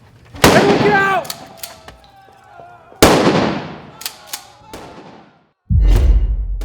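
Sharp, loud gunshot-like bangs in a staged active shooter training scenario in a retail store, three blasts spaced a couple of seconds apart with ringing decays, while people shout and talk in the background.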